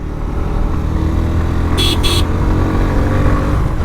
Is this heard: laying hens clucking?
no